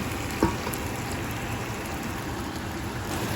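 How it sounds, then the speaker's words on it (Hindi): Meat and masala for biryani sizzle in a pan, a continuous even hiss with one brief clatter near the start, no voices. "जब तक ये सारा अच्छे से भून नहीं जाएगा तब तक मैं इसको भूनती रहूँगी"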